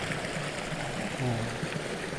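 A waterfall and stream rush steadily with an even, broad hiss, close by and continuous, with no voices.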